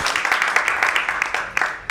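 Steady, dense applause from an audience at a talk on music education and social transformation, a continuous wash of clapping that holds for a couple of seconds before thinning out.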